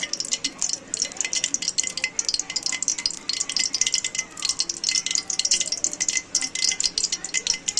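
Ghee heats in a cooking pan, giving off a bright crackling sizzle in rapid, rhythmic bursts, close and moderately loud with no talking.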